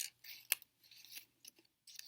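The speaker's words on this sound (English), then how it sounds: "grab your scissors and just practice" Scissors snip through strips of paper in close, crisp bursts, several irregular cuts separated by short quiet pauses, with a faint low hum underneath.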